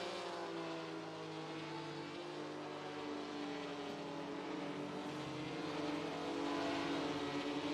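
Race car engines in a sim racing game at Monza in a 1966-era series, several cars droning steadily with layered engine tones as they slow and shift down, loud and continuous without talk.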